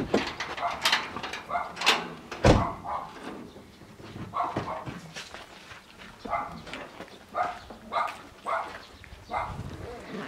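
A dog barks near a parked car, several short yips and barks spread irregularly across the scene, with people talking over and between them.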